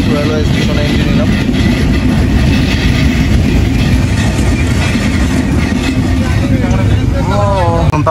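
Dhumketu Express passenger train in Bangladesh arriving at Sirajganj railway station: a steady, loud rumbling carriage noise fills the whole stretch, with a voice speaking over it near the end.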